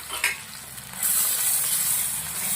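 Grated onion with ginger and garlic sautéing in hot oil in a pan, a steady close sizzle that grows louder and brighter partway through, with faint stirring scrapes early on.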